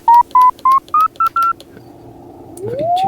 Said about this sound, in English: This is the local oscillator that the KX3 is picking up